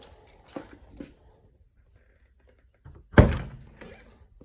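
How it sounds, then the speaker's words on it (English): Car door of a Ford Escort MK1 RS 2000 being opened: a soft click and thunk near the start, then a louder, sharper latch thunk close by after a short quiet gap. "And if I open the door now"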